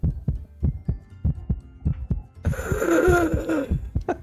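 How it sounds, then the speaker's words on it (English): A heartbeat sound effect, a steady thumping pulse of soft paired beats repeating roughly every quarter second, close and prominent, joined midway by a rising hum and breathy whooshing layered over the beats. "Best heartbeat sound I found."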